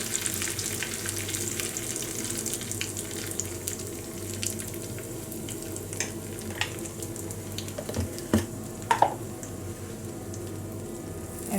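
Curry leaves and turmeric sizzling in hot tempering oil in a home kitchen, just after the gas is switched off: a steady close frying hiss with a few faint clinks and pops, no talk.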